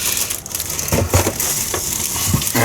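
A cardboard box holding an LE search spotlight is torn open, giving crackling, crunching rustles and scattered sharp snaps throughout at a moderate level.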